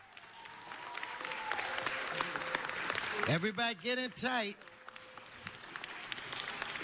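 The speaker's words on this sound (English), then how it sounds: "Let's give them another round of applause." Audience applause fills a City Hall council meeting, a steady wash of clapping that runs throughout while someone speaks loudly over it in the middle.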